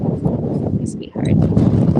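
A big gust of wind buffets the microphone outdoors on a Kentucky horse farm beside mares and foals, a loud low rumble that briefly drops before surging again.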